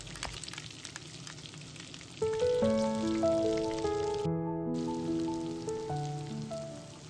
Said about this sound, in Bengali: তেলে প্রথমেই দিয়ে দিতে হবে 4 চামচ পোস্ত বাটা, তার সাথে 4 চামচ সর্ষে বাটা, দিয়ে ভালো করে কষিয়ে নিতে হবে